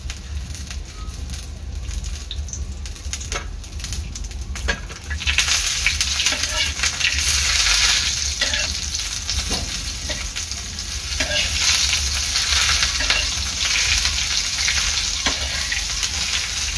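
Onion tipped into hot oil alongside dried bombil fish sizzles loudly and continuously, the frying hiss swelling sharply partway through and staying dense and close with occasional stirring clicks, no voices.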